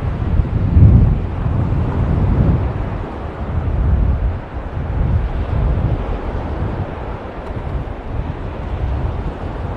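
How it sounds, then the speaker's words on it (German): Strong wind at Kumköy Beach in Side buffets the microphone in a continuous low roaring rumble that swells and eases in gusts, with no voices. "Und es ist sehr windig gerade."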